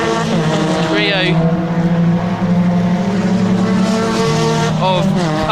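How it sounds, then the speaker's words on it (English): Ford Fiesta race cars in the 2013 championship at Snetterton race past in a pack, engines roaring steadily with rising and falling pitch as they pass, loud and close throughout with a brief pause in intensity midway. "this is really good racing from the Ford Fiestas"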